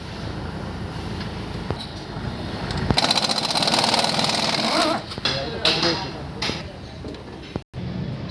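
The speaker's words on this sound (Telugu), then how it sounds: "నట్ టైట్ అనమాట మిషన్ తోటి" In a tractor workshop, a powered tool rattles rapidly for about two seconds as it tightens a nut under pressure during Sonalika clutch joint work. Workshop clatter and voices fill the space around it.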